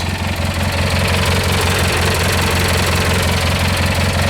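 A tractor engine fitted with an older, tried-and-true motor runs steadily at idle, a loud, even, low throb with a knocking pulse that continues unbroken throughout.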